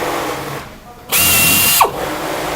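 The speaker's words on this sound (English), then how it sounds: "you might have to re-drill the holes to get them to assemble correctly" A power drill bores out a rivet hole in a static fleet unit assembly, a loud close whine that starts abruptly, runs for under a second, then drops away with a falling pitch as it stops.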